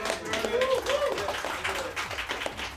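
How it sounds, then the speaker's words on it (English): Crowd applause with scattered clapping, fairly steady, mixed with voices and chatter throughout, at a Tekken 7 pre-release event in Sydney. "round of applause for Jeremy, please"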